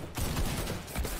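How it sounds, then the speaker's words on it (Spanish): A burst of rapid gunfire fired into the air in Fortnite crackles in quick succession, loud and close, with a sharp second volley near the end. "dar un disparo al aire"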